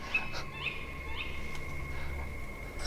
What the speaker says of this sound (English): was that the owl?